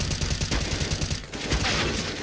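Video game gunfire rattles out in dense, rapid volleys, loud and close, with only a brief dip before the shooting resumes. No one speaks.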